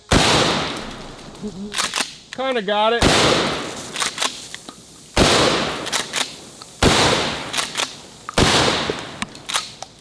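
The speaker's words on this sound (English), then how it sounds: "We gotta shoot some 2-liters. And of course, we're going from the hip." Short-barreled shotgun fired from the hip at 2-liter plastic bottles outdoors, four loud sharp blasts spaced about two seconds apart, each with a quick decay, with a voice speaking briefly between shots.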